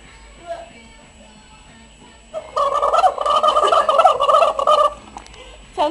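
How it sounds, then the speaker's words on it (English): Novelty noisemaker toy sitting in a drink and blown through to give a loud, warbling turkey-like gobble for a few seconds up close, with faint voices before and after. "Sounds like a turkey."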